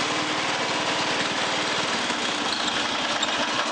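A 1986 Toro 11-32 lawn tractor engine with a fault running close by, a steady rough chugging drone that sputters slightly and stays loud throughout.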